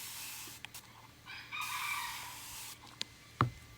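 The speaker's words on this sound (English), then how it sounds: "Don't mind my rooster." A backyard rooster crows once in a long drawn-out call heard at a distance, quiet against a hushed outdoor background, followed by a few faint clicks and a brief sharp knock.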